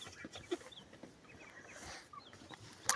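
Soft clucking and scattered calls from chickens outdoors, faint against a quiet rustling background, with a sharper sound near the end.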